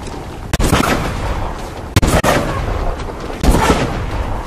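Loud gunshots from the video game Call of Duty: Advanced Warfare, three sharp cracks spaced over a few seconds, each followed by a heavy rumbling tail over dense battle noise.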